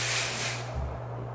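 A short hissing burst from an aerosol can of dry shampoo sprayed on hair, lasting about half a second, then a faint background hum.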